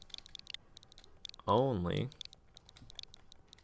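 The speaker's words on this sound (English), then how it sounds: "I'm really bad at typing on this" Rapid, uneven clicking of keys on a keyboard, close and crisp, runs through the whole stretch in short bursts, broken once by a brief spoken word over the tapping.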